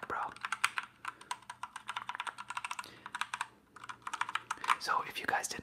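Typing on a computer keyboard with a slightly finicky W key, dense close clicks in rapid bursts with short pauses, low background voices faintly underneath.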